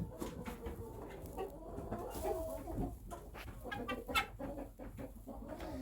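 Hens cluck and chatter inside a backyard farm chicken coop, a busy mix of soft clucks and short calls at moderate distance, fairly quiet overall.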